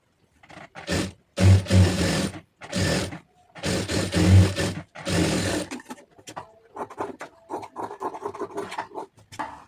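Sewing machine stitching a blouse neckline, running in several loud bursts of a second or so with short pauses, then lighter, scrappier handling and scraping of cloth near the machine.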